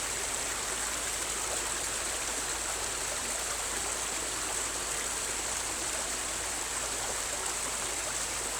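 Clear spring water flows steadily at an ancient healing well, St. Dyfnog's in Wales, giving a continuous, even rushing and trickling wash with no voices.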